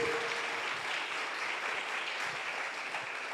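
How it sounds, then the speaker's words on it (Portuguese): A church congregation claps together in a steady, dense wash of applause, continuous and even from start to finish, with no voices rising above it. "Você pode dar uma salva de palmas a Jesus"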